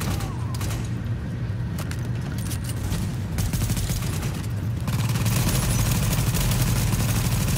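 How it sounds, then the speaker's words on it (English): Sustained automatic M16 rifle fire in the shooter game The Division, with dense rapid cracks and booms of a firefight that continue loud and close throughout and grow heavier toward the end. "one thing I can say about this M16, it may not cause much damage. But man, you point it on target and it stays, even on auto"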